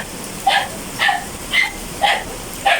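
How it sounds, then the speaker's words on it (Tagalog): A dog barks five times in a steady, evenly spaced series, each bark short and sharp, fairly close and clear over quiet background hiss. "Ayun na naman yung aso."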